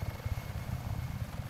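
A helicopter in the video game Just Cause 3 flies with a steady, fast rotor thump, a continuous low chopping pulse heard close and alone.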